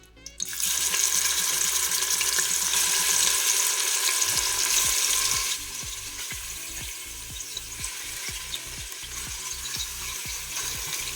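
Meat sizzling as it browns with onions in a Cookeo multicooker on browning mode, a steady close frying hiss with stirring clatter, loud at first and then settling slightly quieter.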